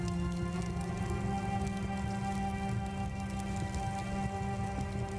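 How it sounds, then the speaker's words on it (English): Hail pelts down in a mountain pass in The Fidelio Incident, a dense, steady patter that stays constant under a low wind-like drone with no voices. "Hail's too strong. I can't get through."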